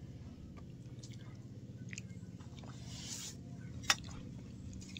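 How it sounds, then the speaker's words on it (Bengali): Someone chews Malabar spinach with kalibaus fish curry, soft wet squishy mastication repeating steadily and quietly, with one brief sharp click partway through. "পুঁই শাকটা চিবিয়ে চিবিয়ে খেতে বেশ ভালো লাগে"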